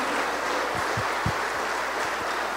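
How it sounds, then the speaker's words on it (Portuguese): A church congregation applauding during worship, a steady broad wash of clapping from many hands filling the room, with a few louder low thumps standing out near the middle. "Aplauda ao Senhor, meu irmão, em nome de Jesus."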